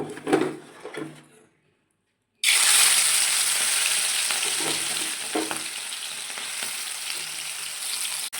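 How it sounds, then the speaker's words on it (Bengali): Fish hits hot oil in a wok with a sudden loud sizzle after a brief quiet pause. Steady crackling frying follows, with faint stirring clinks, close by and without talk. "এবার আমি এখানে প্রথমে আগে মাছগুলোকে ভেজে নেব।"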